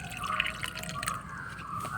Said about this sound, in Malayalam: ഞങ്ങൾ വെള്ളം ഒഴിച്ചു കൊടുക്കുന്നുണ്ട്